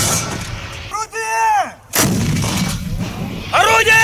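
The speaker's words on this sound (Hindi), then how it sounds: "बखमूत में रूस की MSTAB तोपखाना रेजिमेंट ने यूक्रेनी सेना पर बेहद तीखे और प्रचंड हमले किए हैं" A Russian artillery regiment shells Bakhmut: heavy, loud artillery blasts boom close by, about three sharp reports a second or two apart, with a rumbling tail after each.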